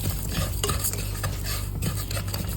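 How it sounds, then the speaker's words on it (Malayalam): A spoon scrapes and clinks in a pan as roasted grated coconut is stirred in hot coconut oil, with rhythmic scraping strokes over a low frying sizzle, close and fairly loud, no voices. "എന്നിട്ട് ജസ്റ്റ് ഒന്ന് ഇളക്കി കൊടുക്കാം"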